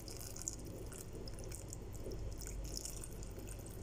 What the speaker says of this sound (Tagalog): nilagay ko na siya sa casserole. Nilagyan po ng tubig.